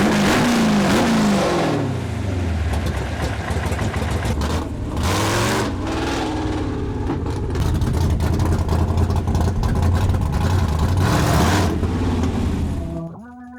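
Propane-powered hot rod engine revving up and down in repeated swells, loud and close, with rising and falling pitch sweeps and a rough idle between bursts before cutting off at the end.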